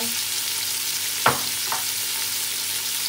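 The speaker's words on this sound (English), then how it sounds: "I want to give this our shrimp a little bit fry before I can start cooking our rice." Shrimp frying in a pan for chicken fried rice, a soft continuous sizzle with two brief scraping stirs near the middle, no voices.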